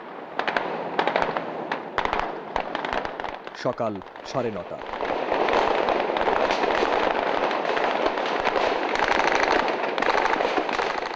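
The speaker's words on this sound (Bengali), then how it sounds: "থেমে থেমে গুলি আর ব্রাশ ফায়ারের শব্দে কেঁপে ওঠে পুরো এলাকা" Gunfire and automatic weapon bursts crackle across the area during the Pilkhana incident at the BDR headquarters, sharp volleys stopping and starting in dense clusters, with a voice speaking over parts of it.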